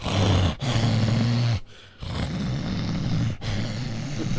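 A man mimics loud snoring with his voice, drawn-out rasping groans repeated in a few long breaths with brief pauses between.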